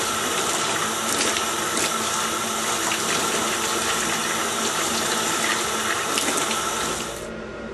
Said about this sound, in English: The water coming out of here is very hot.